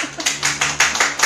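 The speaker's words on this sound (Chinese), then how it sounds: "给点掌声好" A stand-up audience claps briefly on request, a short run of quick, evenly spaced handclaps, close and fairly loud.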